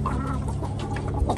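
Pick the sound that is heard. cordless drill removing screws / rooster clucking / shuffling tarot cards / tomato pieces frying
rooster clucking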